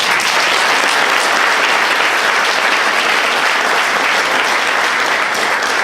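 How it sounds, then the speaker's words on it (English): A hall of fame induction audience gives a dense, loud, sustained round of applause that holds evenly throughout with no speech over it. "So please give her a round of applause."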